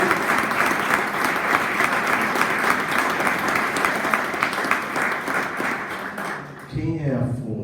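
A church congregation claps and applauds in a dense, sustained wave of sound that fills the room, with a voice heard faintly under it, before it abruptly drops away near the end.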